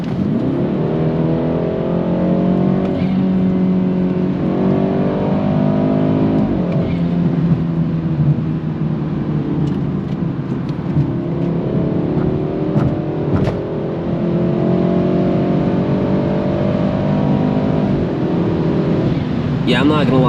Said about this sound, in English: I have the 340i exhaust, which sounds good, and it definitely burbles more with